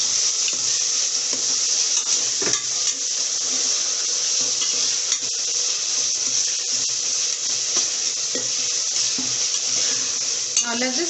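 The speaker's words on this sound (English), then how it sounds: "Now add in some tomatoes once the onion is cooked well." Onions and tomatoes fry in a pan with a steady, loud sizzle throughout, broken by occasional scrapes and knocks as they are stirred.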